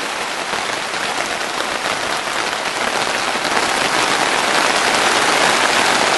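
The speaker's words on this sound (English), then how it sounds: "and it kind of started to rain" Rain falling on a polytunnel roof over chili plants, a dense, steady hiss of drops drumming on the plastic that grows slightly heavier toward the end.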